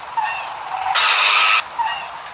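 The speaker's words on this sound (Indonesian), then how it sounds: "Nah mantap ya untuk suara remnya" A car's brakes in an Indonesian GTA-style Android game release a loud burst of hissing noise for about half a second, set between softer engine tones, close and clear with no talk.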